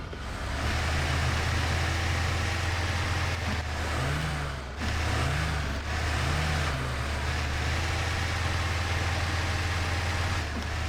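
A truck engine in the off-road driving game Mudrunner runs loud and steady throughout, a constant low drone with a few brief rising revs and a short dip in the middle, with no talking.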